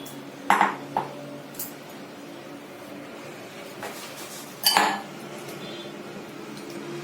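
Cooked prawns in tender coconut transferred into a bowl, with two bright clinks of metal utensils against dishware early, a fainter tap, then another sharp clink, all close and without talk.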